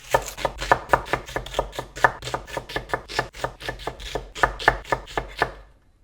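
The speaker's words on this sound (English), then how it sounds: "Going to start with 2 onions and I'm literally just going to roughly chop them." A knife roughly chops two onions on a board in quick, steady strokes, about four per second, crisp and close, running for several seconds before stopping, with no speech.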